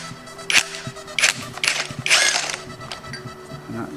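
A big chunky socket on a ratchet wrench loosens a nut on a classic engine's timing chain cover, giving several bursts of ratcheting clicks and metallic clatter close up in a quiet workshop.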